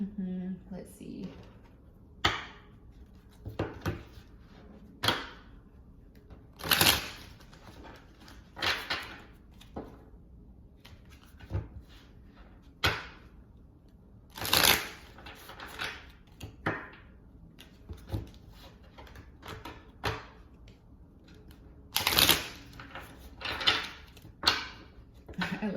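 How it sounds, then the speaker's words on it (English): Tarot cards being shuffled in repeated riffling bursts and soft flicks over roughly twenty-five seconds, close and fairly quiet, with a voice talking intermittently throughout. "I love the sound of shuffling sometimes."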